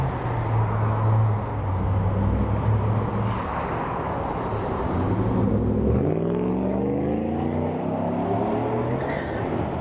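A school bus drives past on a road during a run, its engine a steady low rumble that rises and shifts in pitch as it goes by, close and loud throughout.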